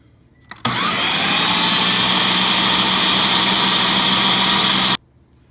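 A Ninja food processor runs steadily at high speed, blending fish into tomato puree with its sharp metal blade; a loud, continuous whirring motor starts abruptly, holds for about four seconds and then stops.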